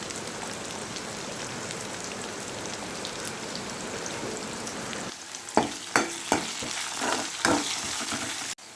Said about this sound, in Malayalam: അല്പം ഉപ്പിട്ട് കൊടുത്ത് ഒന്ന് വഴറ്റുക.